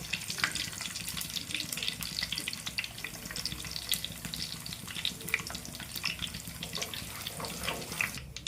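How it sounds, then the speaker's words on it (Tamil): Fenugreek and mustard seeds splutter in hot oil while a kind of onion-and-garlic curry is cooked, giving a continuous close crackle dotted with sharp pops, with no voices. "இப்போ இந்த டைமில் வெந்தயம் கடுகு சேர்த்துக்கலாங்க. நல்லா பொரியட்டும்."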